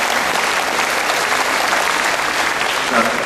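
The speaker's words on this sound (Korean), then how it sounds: "그분들에게도 박수를 한번 보내주시기 바랍니다." Audience applause fills a community orchestra concert hall, steady dense clapping from a crowd sustained close by throughout.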